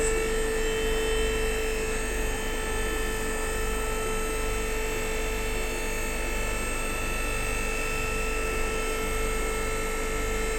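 Hydraulic vehicle lift running steadily in a workshop as a PSA car is raised, a constant loud motor drone with a low hum and a high whine holding evenly throughout, with no talking.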